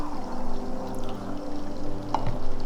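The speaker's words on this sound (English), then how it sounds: "take an ounce of simple syrup and pour that in there as well" Simple syrup is poured into a cocktail glass during drink preparation, giving a soft, steady liquid pour that runs for a few seconds at close range with no talking over it.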